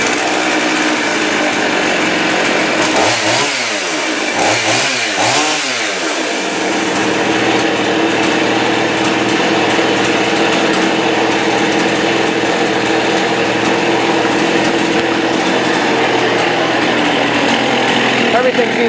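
A Husqvarna 55 chainsaw, its carburetor freshly adjusted, starts with a few sharp revving bursts. It then settles into a loud, steady, close-up idle that runs without a break.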